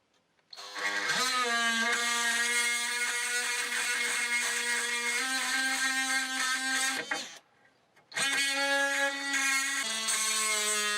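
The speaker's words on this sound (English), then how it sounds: "I'm gonna have to cut those nails" A power tool cuts through nails in the old woodwork of a camp with a loud, high whining buzz. The tool runs for about six seconds, stops briefly, then starts again and carries on steadily.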